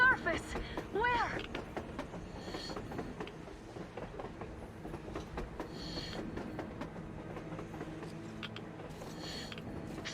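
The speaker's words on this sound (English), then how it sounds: "A train! A damn train on the surface!" A train rolls past on the surface in the video game Metro Exodus, a dense rumbling clatter of railcars with rhythmic wheel clicks and metallic squeals, loudest at the start and steady throughout, with voices talking over it.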